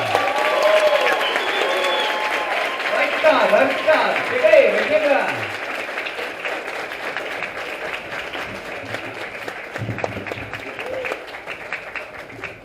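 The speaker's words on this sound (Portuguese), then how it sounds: "uma salva de palmas pra essa galera!" An audience at a comedy show claps steadily and loudly for a group of performers, the applause holding for several seconds and thinning toward the end while someone talks over it.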